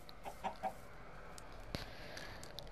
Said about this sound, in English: These chickens are, my god.